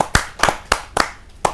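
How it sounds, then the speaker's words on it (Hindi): A handful of sharp, separate hand claps from an audience at a televised Hindi poetry recital (kavi sammelan), about six crisp claps in quick, uneven succession with no voices. "जोरदार ताली के साथ"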